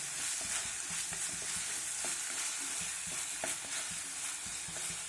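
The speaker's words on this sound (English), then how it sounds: "I'm going to add little bit of soya sauce, little bit, and then we'll mix it." A Spanish omelette mixture with a little soy sauce is stirred in a hot pan. A continuous sizzle runs under repeated scraping and stirring strokes at an irregular rhythm, close and fairly loud, with no talking.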